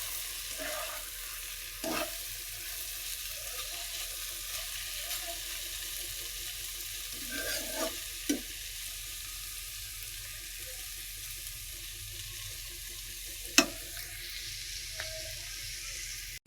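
Food sizzles steadily as it fries golden in a pan, with intermittent scraping and clinking of a stirring spoon over a constant hiss.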